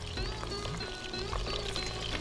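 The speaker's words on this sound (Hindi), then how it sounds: "अब इसके अंदर डालेंगे 3 से 4 टेबल स्पून हनी" Honey is poured into a marinade of vinegar and lemon juice, a soft, faint steady pouring trickle over low background hum.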